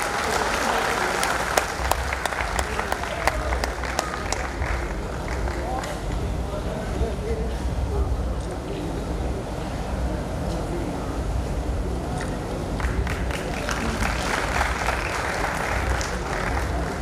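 A crowd claps at a Maharana Pratap Jayanti procession event in Udaipur, steady applause continuing throughout, with a voice occasionally heard over it.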